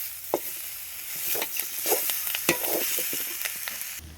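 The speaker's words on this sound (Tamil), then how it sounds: "நல்லா கிண்டி வதக்கினாத்தான் கொஞ்சம் நல்லாயிருக்கும் குழம்பு" A spoon scraping and stirring fish curry masala as it sautés in a hot pan, with soft frying sizzle and sharp scrapes and taps at irregular intervals, close and alone without speech.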